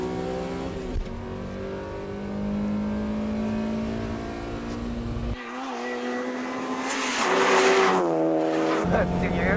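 A Toyota 86 race car on S tyres, its engine droning steadily and then rising and falling in pitch as it revs through gears with some tyre squeal, heard from inside with people talking over it.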